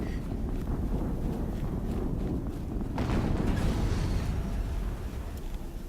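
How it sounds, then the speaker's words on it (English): Rumbling blast from an explosion in the video game Horizon Zero Dawn, a dense low roar that swells around the middle and fades, with a breezy windy wash throughout. "Another explosion."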